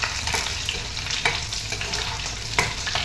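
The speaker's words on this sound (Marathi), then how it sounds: "मिरची तेलामध्ये चांगली अशी तळू द्यायची" Green chilies fry in hot oil over a wood-fired clay stove, giving a steady close sizzle. Occasional sharp scrapes and stirring knocks cut through it.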